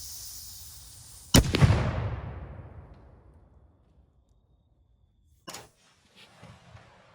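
A rifle firing washing machine rounds at a Coke bottle: one sharp, loud shot with a long rolling echo outdoors, then a second, shorter crack a few seconds later.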